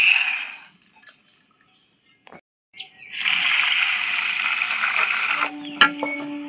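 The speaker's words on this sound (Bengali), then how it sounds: "এই দেখুন চালটা এখন আমি ধুয়ে নেব।" Gobindobhog rice being washed in a bowl of water, with a few light clinks and splashes at first, then a sustained swishing, sloshing rush of water that continues to the end, close and fairly loud.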